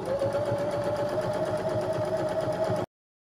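A sewing machine stitching flannel for a reindeer craft runs with a steady close mechanical whir and needle rhythm for a few seconds, then stops abruptly into silence.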